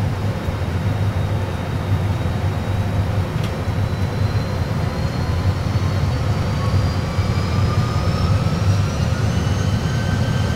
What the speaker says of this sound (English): You ready for the takeoff?